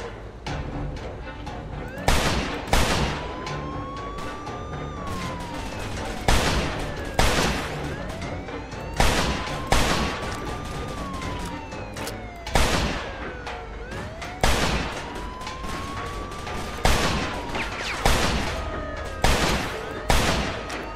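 Gunfire in the Mafia 2 DLC video game: loud, sharp shots come in irregular bursts every couple of seconds, over a steady bed of game ambience with a rising and falling siren-like wail.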